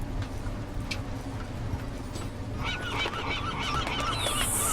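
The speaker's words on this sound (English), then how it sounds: "Fucking seagulls." Seagulls call in Deus Ex: Mankind Divided, a burst of harsh, honking cries rising over steady ambient background noise toward the end, fairly loud and close.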